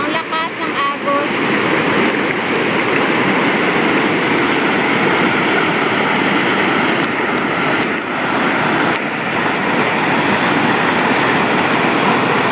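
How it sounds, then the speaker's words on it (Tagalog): A strong river current and nearby waterfall on a trek to Yellow Dragon roar as a loud, continuous wash of rushing water that fills the whole clip, with a short break in the middle. "Ang lakas ng agos."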